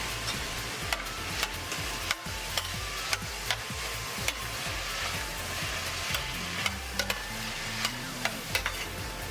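Fresh thyme and rosemary being stirred in a sizzling pan, with steady frying hiss underneath and regular scraping taps of the spoon against the pan, close and distinct, with no talking.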